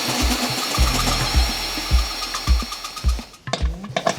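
A power driver sinks wood screws into a wooden go-kart seat mount. It gives short, repeated bursts of low whirring at a roughly even rhythm, close and fairly loud.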